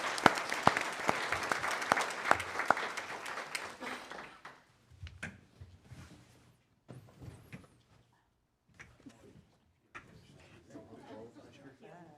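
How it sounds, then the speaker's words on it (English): Audience at a board of education meeting gives a round of applause that is dense and steady for about four seconds, then thins to scattered claps among room noise and quiet talk. "So let's all give her a round of applause"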